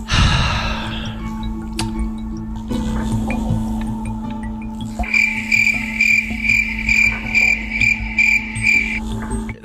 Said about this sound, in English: The crickets again.